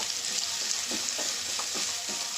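Onion frying in oil for a home-style Bengali chicken curry, a steady close sizzle with faint scraping stir sounds recurring throughout, no talking.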